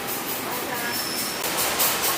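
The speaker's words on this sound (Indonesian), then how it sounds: "Jadi kereta api Datuk Belambangan nggak berhenti di stasiun Bandar Tinggi." Datuk Belambangan passenger train running, a steady loud rumble of rail travel with a brief high whine, continuous throughout without pauses.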